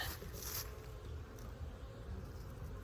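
Honeybees buzzing around a hive during orientation flights, a faint, steady drone of many wings with a few individual bees passing closer, no voices heard.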